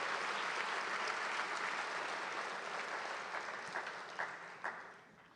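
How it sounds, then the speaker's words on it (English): An audience at an Armenian Genocide commemorative event claps in sustained applause that holds steady, then thins into a few scattered claps as it fades out. "Please give these individuals all a big round of applause."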